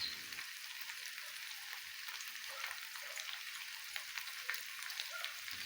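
Pork adobo with crushed and whole peppercorns fries and is stirred in a pan, producing a soft, steady sizzle with scattered faint crackles and light stirring scrapes throughout.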